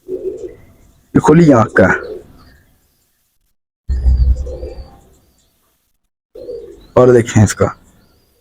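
Lal Nara and Bullet breed pigeons coo in short low bursts close by, alternating with someone speaking.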